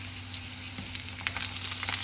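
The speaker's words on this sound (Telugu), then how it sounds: "క్రిస్పీగా వేగుతున్నాయి." Potatoes fry crisply in a pan with a bright, continuous sizzle and crackle, close and moderately loud, with no talking.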